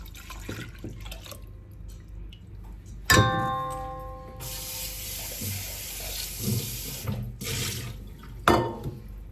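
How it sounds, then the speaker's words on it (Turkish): Hot water is poured from a tap onto yeast in a bowl, a close splashing stream that starts abruptly, runs for a few seconds with a hiss, then stops, with small clinks and drips around it. "şimdi bu mayamıza sıcak su döküyoruz"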